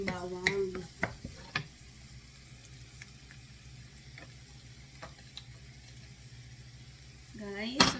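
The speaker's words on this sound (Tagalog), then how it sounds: "Gisa-gisa sibuyas. Then, ilagay na po natin yung bawang." Onion and then garlic sauté in a pan, a steady quiet sizzle with occasional utensil clicks and scrapes, while someone speaks briefly at the start and end.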